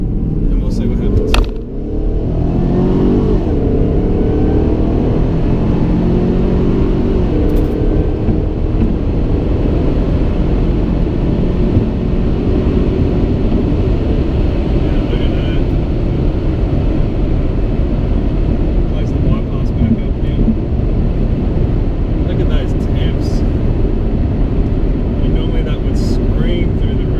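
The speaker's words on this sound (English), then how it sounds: "I'll give it a full throttle run down the ramp here," A car engine with an interchiller bypass valve is run at full throttle down a ramp. It gives a loud, sustained roar with rising tones early on, and that roar holds steady for the whole stretch.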